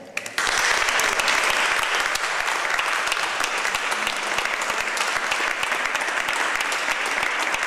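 Sustained loud applause from an audience at a choir concert of Ave Maria, dense steady clapping throughout after a brief quiet start.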